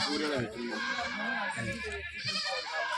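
A goat bleats in short wavering calls, close by, while several people talk loudly over it.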